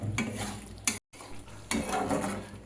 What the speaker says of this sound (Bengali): দিয়ে এবার এটার সাথে কিছুক্ষণ আবার কষিয়ে নেবো, নিয়ে নামিয়ে নেবো